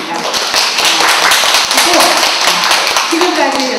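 An audience at a book talk applauds an author with steady, dense clapping that fills the room, while a voice speaks briefly over it.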